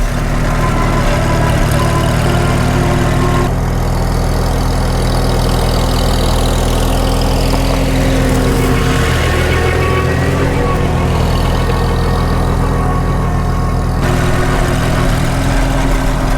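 Farmall H tractor with a newly repaired sleeve, running at full throttle under full load, a loud continuous low engine drone with steady firing rumble throughout.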